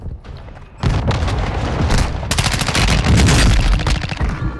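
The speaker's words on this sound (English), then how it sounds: "Hostile mortar strike incoming." Mortar strike explosions in a first-person shooter video game: loud, dense rapid blasts and gunfire-like bangs that begin abruptly after a brief lull and continue in overlapping bursts to the end.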